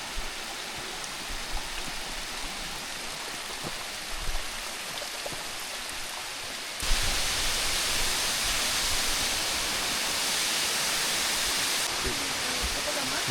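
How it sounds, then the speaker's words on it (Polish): A waterfall on the Rabaçal trail in Madeira pours with a dense, steady roar that swells noticeably louder partway through, broad and continuous like heavy rain. "No już stąd widzę ten wodospad."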